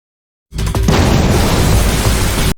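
After a moment of silence, a loud, sudden anime explosion bursts out and settles into a dense, roaring rumble that holds until the end.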